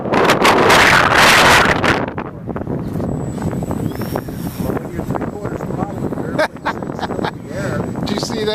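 Gusting wind batters the microphone outdoors at a windy model T-28 airplane flight, a loud roar at first that settles into steady buffeting, with a faint high-pitched engine whine in the background.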